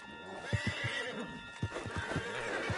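A horse whinnies with a high, wavering neigh while hooves clip-clop steadily beneath it, close and clear, from the video game Red Dead Redemption 2.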